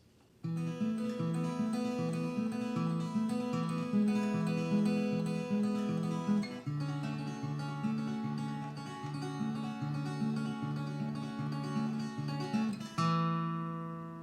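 Acoustic guitar plays the short interlude from a song, ringing sustained chords with a melodic line on top, quiet and alone, shifting chord around midway and landing on a final strummed chord near the end.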